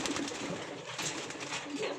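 Pigeons coo steadily and close by in a loft, layered soft throaty calls running continuously with no talk over them.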